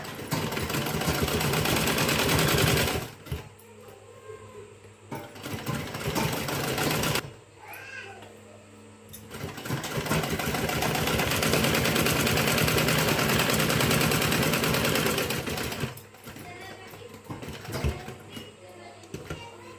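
A sewing machine stitches a blouse in several loud bursts of rapid mechanical chatter, separated by short pauses where the needle stops and starts again.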